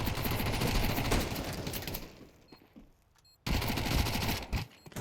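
Rapid pistol fire in an online video game match, a dense burst of shots that briefly drops away and then resumes at full strength, close and loud with no talk over it.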